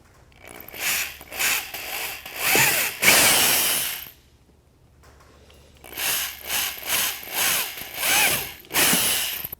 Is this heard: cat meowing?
no